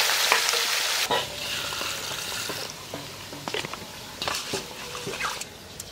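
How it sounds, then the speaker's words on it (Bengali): Fish fries in mustard oil in a wok, opening with a loud, bright sizzle that drops off sharply after a second. Quieter spitting, stirring scrapes and small clinks follow, all heard close by. "মাছ ভাজার জন্য সর্ষের তেল"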